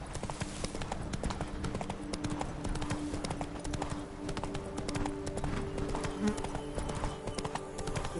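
Horse hooves clip-clop at a steady gallop rhythm in the game The Witcher 3: Wild Hunt, close and continuous for the whole stretch, with a brief whinny-like tone and ambient game sounds underneath.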